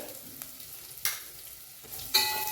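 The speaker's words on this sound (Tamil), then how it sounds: "இது கூட வறுத்துக்கலாங்க இந்த மாதிரி வறுத்துக்கோங்க" Onions sizzle and crackle softly frying in a hot pan, with a couple of brief louder hisses as they are stirred.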